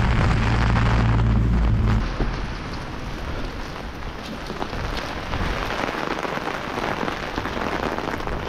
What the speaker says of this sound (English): rain's just blowing completely into my brolly